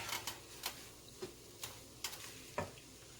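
Luncheon meat fried rice being stirred and tossed in a pan, with a handful of sharp scraping clacks from the utensil spaced irregularly over a faint sizzle, close and moderately quiet with no talking.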